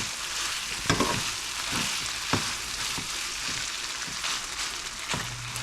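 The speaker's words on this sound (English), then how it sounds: "Now we're just gonna let this cook down." Black beans sizzling as they cook down in a pan, a steady close crackle with occasional clicks and scrapes of a stirring utensil, fairly quiet and without voices.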